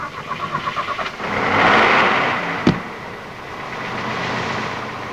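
A car engine cranks with a quick rhythmic churning, catches, and then rises into a steady, moderately loud run as the car pulls away, with one sharp knock partway through.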